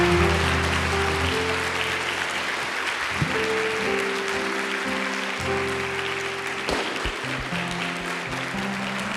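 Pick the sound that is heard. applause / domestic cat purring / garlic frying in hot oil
applause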